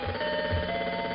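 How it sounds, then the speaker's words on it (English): A telephone rings at the end of a level in the 8-bit game Target Renegade, a steady electronic ring with an even repeating pulse, sounding alone at moderate volume. "At the end of each level there's a phone that you have to answer."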